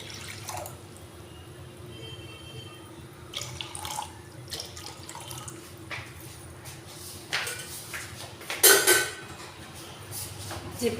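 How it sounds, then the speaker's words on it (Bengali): Water poured into a kadai set on the stove while making Bengali wood apple murabba, a soft trickle and splash with faint clinks of metal and one brief louder gush near the end. "আমি এখন একটা কড়া বসিয়ে দিয়েছি, কড়ার মধ্যে আমি কিছুটা জল দিয়ে দেবো।"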